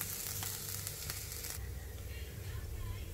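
Onions cooking in masala in a pan for a green peas curry with potato, giving a soft, steady sizzle up close at low level, with a brief brighter crackle early on before settling into a quieter fry.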